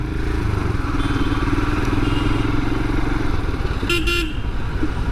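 Royal Enfield Himalayan motorcycle riding through city traffic, a steady engine drone with road noise throughout and a brief car horn honk near the end.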